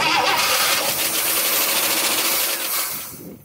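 A 1963 AMC Rambler Ambassador engine, long neglected and with a leaking accelerator pump, cranks loudly and roars close up, a dense steady mechanical churn that fades near the end.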